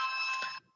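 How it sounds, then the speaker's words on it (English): A bell or ring tone sounds during a city council special called meeting, a steady bright ringing that holds for just over half a second and then cuts off, leaving faint room tone. "my bell is ringing."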